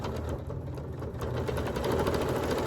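A sewing machine runs steadily through a rag quilt seam, its fast continuous mechanical whir staying even and close for the whole stretch, with no voices.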